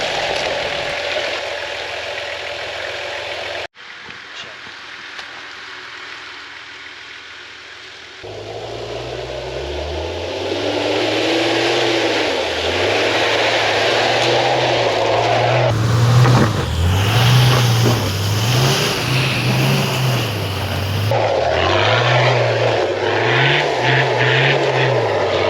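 A 4x4 with a malfunctioning rear locker revs hard while trying to climb out on Maxtrax recovery boards, its engine note rising and falling in repeated surges that grow loud over wind noise.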